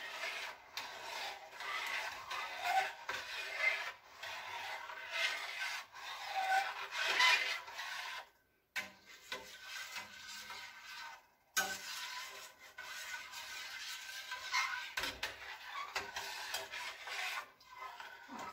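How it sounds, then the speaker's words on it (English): A spoon scrapes and rubs steadily around a pot of muscadine jam with sugar, a continuous soft rasping stir with brief pauses, close and quiet. "I'm supposed to stir this the whole time, now that I have the sugar in it, until it comes to the full rolling boil."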